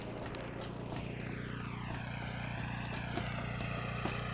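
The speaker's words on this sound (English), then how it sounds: "That is a really good engine sound." Vehicle engine in the Mad Max video game, a steady droning roar whose pitch slowly sweeps down and back up, continuous and fairly loud with no talking.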